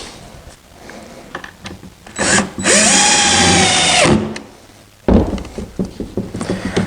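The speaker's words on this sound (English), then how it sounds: "I'm just using framing screws." A power drill drives framing screws into the tray of a cork bulletin board, with one close, loud whirring burst of about two seconds between quieter handling knocks and clatter.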